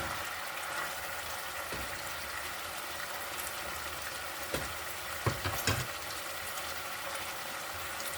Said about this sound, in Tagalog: Siyempre, haluin para mag-even ang kanyang gulay.